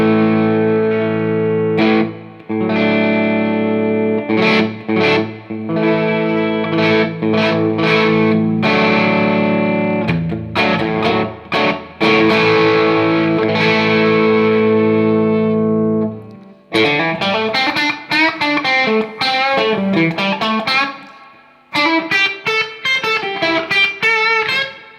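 Electric guitar played through a Laney Lionheart L20H amp with just a cable, strummed chords and picked riffs cycling through three pickup positions, loud and continuous with a brighter, choppier tone in the later passages.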